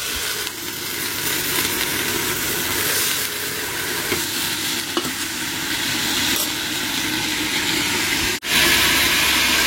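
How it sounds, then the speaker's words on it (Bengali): Leafy greens cooking with a garlic tempering in oil, a steady close sizzle with stirring scrapes throughout and a brief dip near the end, no talking. "শাকটা এখন বানিয়ে নিচ্ছি রসুন তেলানি দিয়ে"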